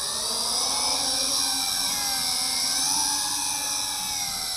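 WLToys Q919-A FPV tank drone in air mode, its small rotors whining in a steady high-pitched buzz with a faint wavering pitch, close and continuous throughout with no talking.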